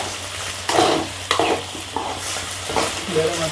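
A chilli dish being stirred in a pan on a gas stove, with repeated scraping strokes through sizzling frying, close and fairly loud, no talking.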